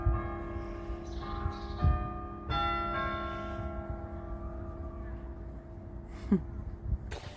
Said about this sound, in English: Let's listen to the bells.